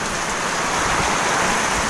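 Heavy rain pours down hard during a windy storm after a power cut, a dense, loud, continuous hiss of water hitting surfaces close by, with no voices.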